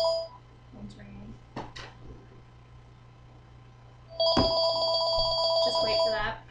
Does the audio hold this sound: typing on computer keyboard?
no